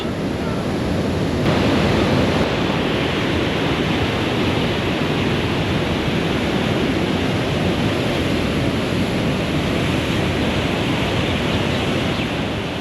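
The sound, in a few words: water rushing through an open dam sluice gate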